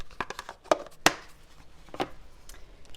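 A knife cutting through a stick of butter on a board gives several sharp, close taps and thuds, with one loud knock near the middle and a few fainter clicks spread out afterward.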